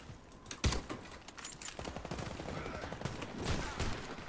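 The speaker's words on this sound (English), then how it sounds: "Oh, he's using his pistol." Pistol shots from a Warface match, a sharp loud crack near the start followed by a busy run of softer bursts and impacts amid steady game noise.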